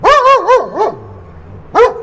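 A dog barks several times in a quick burst, loud and close, with a whine-like falling tail after the fourth bark and one more bark after a short pause, used as a podcast intro.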